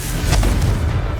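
A Confringo blasting spell explodes in Hogwarts Legacy, a loud, dense booming burst with rumbling low end that fills the short moment alone, no voices over it.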